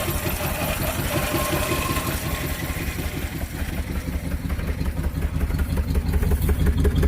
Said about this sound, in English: But she is running, idling good.